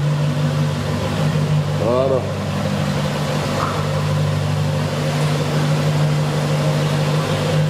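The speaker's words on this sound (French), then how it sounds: "Tu appuies et ça va démarrer, tu vas voir. Ça gueule, hein." An SVR supercar's cold engine runs at a steady low rumble as it eases out of a garage box, a continuous close drone with someone speaking briefly over it.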